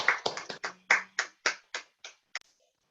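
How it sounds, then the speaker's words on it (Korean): Several people clapping in a church service, about a dozen sharp separate claps in an uneven rhythm that thin out and stop after a couple of seconds. "우리 선교사님께는 감사의 박수를, 또 선교사님을 보내주신 하나님께는 영광의 박수를 올려드리겠습니다."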